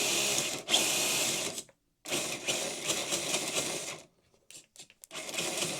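An FTX Centaur RC crawler, worked hard and now set in second gear, runs its drivetrain in whirring, buzzing bursts. The bursts are broken by short silences and a few choppy stops near the microphone.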